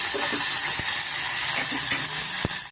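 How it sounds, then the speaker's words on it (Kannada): Green chillies, coriander and mint fry in hot oil with a steady sizzling hiss. A couple of faint knocks from stirring break through near the end, then the sound cuts off abruptly. "ಕೊತ್ತಂಬರಿ ಮತ್ತು ಪುದೀನ ಸ್ವಲ್ಪ ಎಣ್ಣೆನ ನಾವು ಚೆನ್ನಾಗಿ ಫ್ರೈ ಮಾಡಿ ಮಾಡ್ಕೊಳ್ಳೋಣ"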